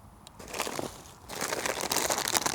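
Crinkling of a chips bag, a crackly, close plastic rustle that starts softly and grows busier and louder, with no talk over it.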